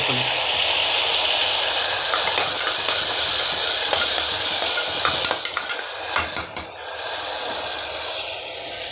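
Tomatoes sauté in a pressure cooker with salt being added, a steady close sizzle under spoon stirring, with a burst of sharp metallic scraping taps near the end.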